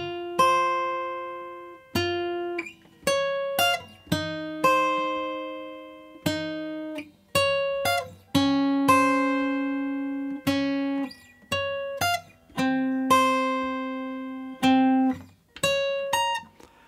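Guitar playing the main theme line from The Forest, a game's menu music: clear plucked single notes in a slow, steady melody, some held for several beats and ringing out, close and alone.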